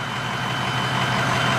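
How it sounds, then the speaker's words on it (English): A big diesel engine idles steadily close by, its deep, even rumble running unbroken and fairly loud from start to finish with no voices over it. "Big diesel running."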